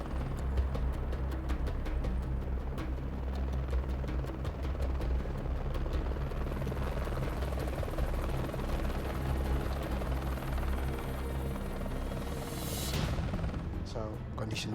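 A rescue helicopter hovering near the ground on a high-altitude Everest mountain rescue, with a loud continuous rotor thump and engine roar close by, and voices faintly underneath.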